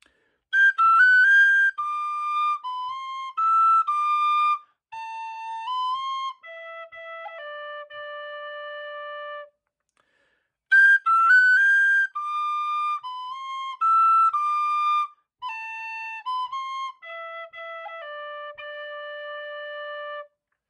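Ballydesmond Polka, part B of the first tune, played as a solo melody on a whistle-like instrument: bright, clear notes in quick dancing phrases, with the same strain repeated twice and a short pause in between.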